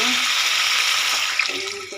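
Water splashes into a pan of frying spice masala cooked with ginger paste for boal fish and bottle gourd, a short burst of pouring and hissing with faint talk.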